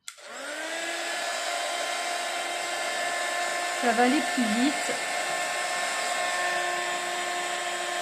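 A small heat gun blowing a steady, loud whirring roar as it dries ink on a stencilled greeting card, running continuously with brief speech partway through.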